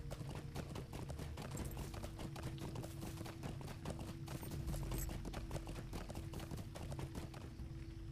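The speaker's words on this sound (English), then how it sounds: "go just a little bit faster on the horse" Galloping horse hooves in Lord of the Rings Online, a fast, steady run of close clip-clop beats that carries on throughout over a faint low game hum, with no speech.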